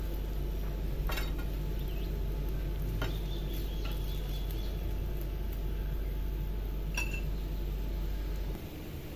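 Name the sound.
paratha sizzling in ghee on a pan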